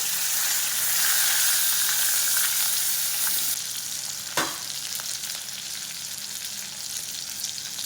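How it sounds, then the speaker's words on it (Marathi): Chopped onion fries in hot oil with cumin, mustard seeds and curry leaves for a capsicum vegetable dish, a loud steady sizzle throughout with a sharp clatter midway and the hiss easing afterward. "जिरे मोहरी कडकडली की आपण इथे कढीपत्ता घालणार आहोत। त्यानंतर बारीक चिरलेला कांदा घालणार आहोत।"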